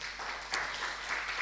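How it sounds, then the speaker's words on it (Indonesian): A church congregation claps during a sermon, a soft, fairly distant wash of many hands at even strength with one sharper clap standing out partway through. "tepuk tangan bagi Tuhan."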